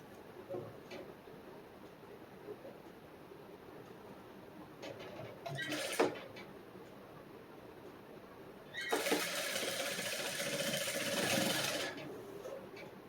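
A sewing machine stitches a quarter-inch shoulder seam on a back-open princess-cut blouse, running in two close bursts: a short whirr near the middle, then a longer run of about three seconds, with quiet handling between.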